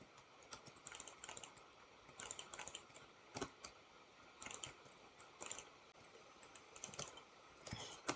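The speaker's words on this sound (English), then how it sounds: "I do like the sound of my mouse clicking." Computer mouse clicking, faint and close, with scattered sharp clicks arriving irregularly, sometimes in quick pairs or small bursts, over a quiet room with no talking.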